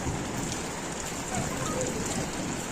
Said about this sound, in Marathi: पाऊस हा जोरात इलो हा धडधड आईत